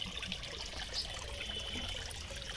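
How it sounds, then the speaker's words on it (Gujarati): Water trickles and splashes into a metal vessel at a farm, a close, even, continuous flow lasting the whole moment with no voices. "ટોકર પણ ભરાય છે પાણીનો"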